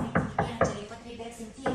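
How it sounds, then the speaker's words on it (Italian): Knocks on a door, a few sharp raps in quick succession, then a pause and another rap. Faint background talk sits beneath them. "C'è proprio qualcuno che sta bussando alla nostra porta."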